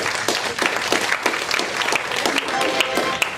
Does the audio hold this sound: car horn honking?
no